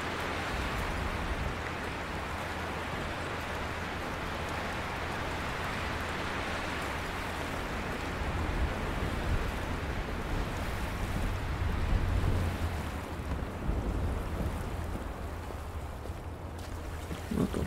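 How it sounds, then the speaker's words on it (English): Water flows steadily in the Myst video game, a continuous rushing, splashing wash that stays even and unbroken throughout with no voices. "So we'll be able to hear the sound of water."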